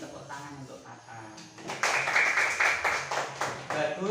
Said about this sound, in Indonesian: Kasih tepuk tangan untuk Fatan.